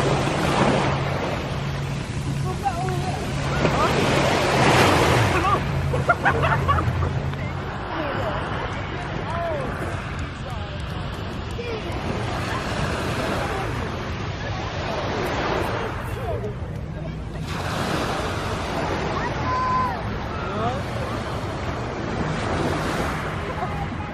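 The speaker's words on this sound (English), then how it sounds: "I love the sound of the sea hitting the pebbles" Sea waves wash continuously over a pebble beach at Brighton on a windless day, with surges building and receding in a steady rolling rhythm. Faint voices murmur in the background.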